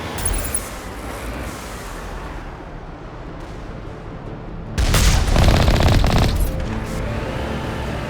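Turret gunfire in the video game Mass Effect, a loud sustained burst of rapid shots erupting partway through over a rumbling engine and battle background.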